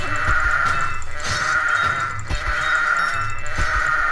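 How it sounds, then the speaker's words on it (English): Sheep in the Kingdom Rush video game bleat repeatedly, a steady stream of wavering nasal bleats overlapping with game sounds and occasional thumps, loud and continuous. "The sheep are dying."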